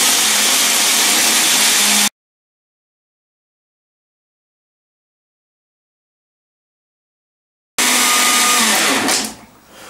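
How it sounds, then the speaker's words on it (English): A kitchen blender roars loudly while grinding calcium cyanamide, stops abruptly into silence, then roars again before winding down. "when I say grind, I mean the blender"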